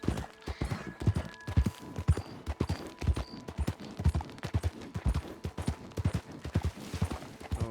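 A horse's hooves clip-clop in a steady, brisk gallop rhythm in the Red Dead Redemption 2 video game, close and continuous with a few faint background tones, and no talking.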